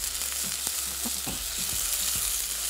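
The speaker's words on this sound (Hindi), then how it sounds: "इसको हमने खूब अच्छी तरीके से भून लेना है।" Beef fries with red food colour in a hot pan, giving a constant close sizzle and hiss with several quick scraping and knocking stirs spaced through it, heard alone.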